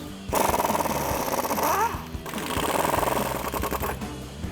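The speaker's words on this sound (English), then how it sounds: "So I'm gonna start with a 15mm socket to remove my bolts" A socket tool runs on 15mm bolts of a front strut on a 2014-2018 GMC Sierra 1500 pickup, giving a loud, close, continuous rattling buzz with a brief break just past the midpoint before it picks up again.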